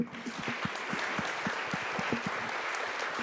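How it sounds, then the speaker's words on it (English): An audience at a New Mexico governor candidate forum claps for elected officials, giving a short burst of brisk, moderately loud applause with a few close individual claps standing out. "Let's give them a round of applause."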